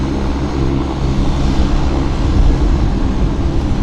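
A WestJet airliner rolling down the runway at Vancouver airport for takeoff, a loud, steady, broad engine roar that holds without a break.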